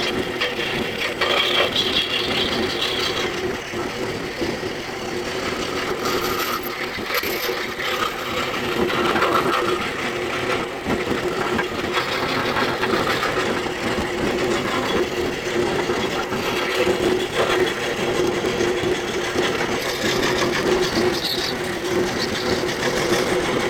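Scroll saw cutting a wooden 3D puzzle held in a hand screw clamp, a steady continuous buzzing, rattling motor drone that runs unbroken and fairly loud throughout, with no talking.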